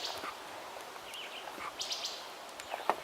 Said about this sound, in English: And I hear a vireo.